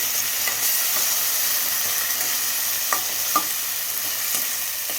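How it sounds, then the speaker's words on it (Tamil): Ground onion paste fries in hot oil for a moong dal kuzhambu over a low flame, giving a steady close sizzle with a few sharp spatters and stirring scrapes scattered through, no voices. "ஒரு ரெண்டு பெரிய வெங்காயம் அரைச்சி வச்சுருக்கேன் அது சேர்த்துக்கலாம்"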